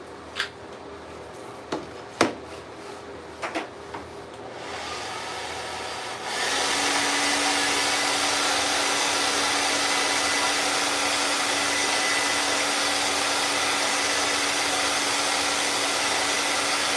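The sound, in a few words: dryer drying a chip repair coating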